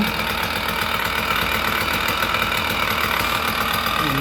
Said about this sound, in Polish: Silnik ładnie pracuje.